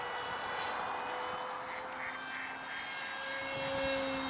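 A large R/C Pegasus XL propjet model flies at about half throttle, giving a steady, sustained engine whine with a faint shift in pitch as it passes at moderate distance.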